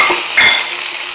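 Shallot goes into a frying pan of okra, giving a bright close sizzle with a quick stir and a faint clink of a utensil against the pan.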